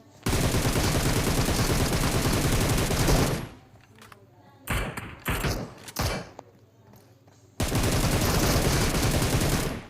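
Sustained bursts of automatic gunfire from bots in a PUBG match, loud and continuous at the start and again at the end, with scattered shots, thuds and quieter gaps in between.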